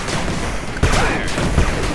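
Rapid gunfire bursts from soldiers in the retro strategy video game 8-Bit Armies, dense and loud throughout, with a sharper volley near the middle and a brief shout under the shooting.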